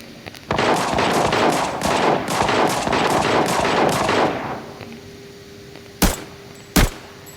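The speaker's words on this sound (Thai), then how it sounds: "เสียงปืนพวกนี้เสียงคนแน่นอน" Rapid bursts of automatic gunfire from the shooter game Arena Breakout, a loud sustained volley lasting several seconds, then two sharp isolated shots after a brief pause.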